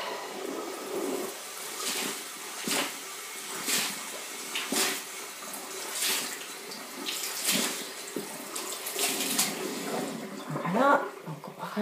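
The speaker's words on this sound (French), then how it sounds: "Voilà, donc on va rincer." A bathroom tap runs steadily while someone rinses their face at the sink, splashing in soft repeated scoops, with someone talking over the flowing water throughout.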